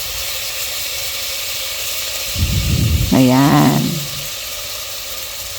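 Onion and mushrooms sizzling in a frying pan for a creamy pork chop sauce, a steady hiss throughout with a louder crackling burst as the mushrooms drop in, while a person speaks briefly.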